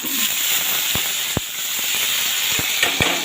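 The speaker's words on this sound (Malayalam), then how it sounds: "ഇതിലേക്ക് നമുക്ക് ഈ വേവിച്ച് വെച്ചിരിക്കുന്ന ചക്കക്കുരു അങ്ങോട്ട് കൊടുക്കാം" Boiled jackfruit seeds hit a hot pan with pepper. A continuous loud sizzling hiss fills the whole moment, broken by a few sharp pops and crackles.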